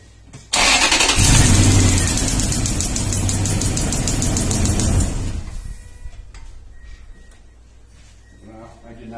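A 2002 Toyota Tundra with an ignition coil fault cranks and starts loudly, then runs with an uneven, stumbling misfire that fades toward the end, recorded close with no talk.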